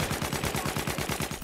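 Automatic 12-gauge shotgun fired in Battlefield 1, a rapid rhythmic string of about a dozen booming shots in quick succession, loud and close, with no talking.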